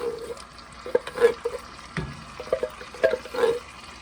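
Canned beans partly drained of their liquid tipped into a pot for country baked beans, landing in soft wet plops and slurps in an uneven run, close and moderately quiet with no one talking.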